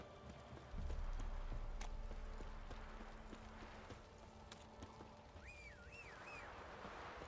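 Horse hooves clip-clop steadily at a running gait in a video game, a close rhythmic patter that starts abruptly and continues under faint ambient sound.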